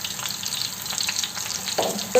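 Ridge gourd pieces sizzling in a generous amount of hot oil in a pan, a steady close crackle and hiss with a couple of louder stirring clanks near the end.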